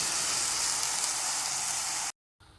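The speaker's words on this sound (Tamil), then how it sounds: "ஆட் பண்ணி நல்லா வதக்கிக்கிறேன்." Ground onion-tomato paste sizzles loudly in a hot pan for a Tamil-style taro root tamarind curry, a steady close hiss that cuts off abruptly near the end.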